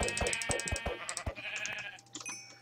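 Sheep in the Minecraft video game bleat several times in quick succession, close and fairly loud, followed by lighter clicking game noises near the end.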